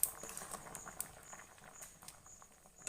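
Vegetable curry of drumstick, potato, lentil dumplings and brinjal in a mustard gravy bubbles in a pot, giving soft, scattered pops and crackles, quiet and close, with no voices.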